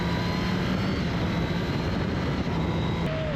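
Kawasaki ZX10R motorcycle engine holds a loud, steady high-pitched drone while riding on a road, with the tone dropping briefly near the end as the throttle eases.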